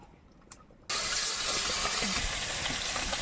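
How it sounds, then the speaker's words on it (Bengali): Oil poured into a hot wok over a wood fire in a village kitchen in the Sundarbans breaks into a loud, steady sizzling hiss after a brief quiet moment, and it keeps going close by. "কড়াইতে তেল দেবো"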